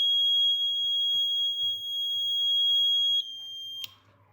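A piezo buzzer alarm on a water tank level system sounds a shrill, steady high-pitched tone for about three seconds, then stops, leaving faint background noise.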